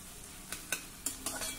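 Onion with crushed ginger and garlic sautés in a pan, a quiet sizzle punctuated by four distinct scraping stirs in quick succession.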